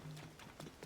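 Horse hooves clip-clopping in Zelda: Tears of the Kingdom, a few quick, evenly spaced steps heard close and fairly faint, with a low in-game tone humming underneath.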